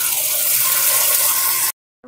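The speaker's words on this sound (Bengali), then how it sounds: "মিক্সিং জারটা ধুয়ে একটু জল দিয়ে দেব" Water splashing and running into a mixing jar as it is rinsed and filled, a loud, close, continuous gush that stops abruptly near the end, then a brief return of sound.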